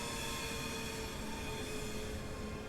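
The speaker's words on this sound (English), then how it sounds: "The train now approaching platform 1 terminates here." A train in the Train Simulator Classic game, on a Glasgow to Dunblane and Alloa route, arrives at a platform with a continuous rumble and faint sustained whine tones, a steady moderate rolling noise without talking.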